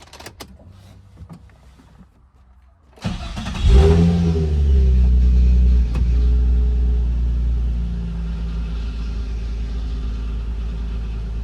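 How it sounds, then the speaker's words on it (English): A Nissan 350Z engine cranks and fires at about three seconds after near silence, revs briefly, then settles into a loud, steady running idle close by. "Time to see if she starts and runs"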